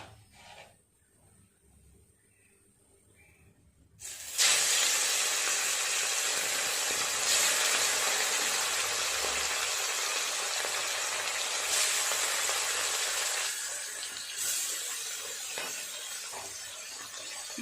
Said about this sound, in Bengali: মাছগুলো ততক্ষণ ভাজা হোক